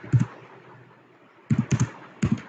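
Keys tapped on a computer keyboard while field names are typed into a Microsoft Access table: a short burst of clicks, a pause, then three quick clusters of keystrokes, close and moderately loud with no voices.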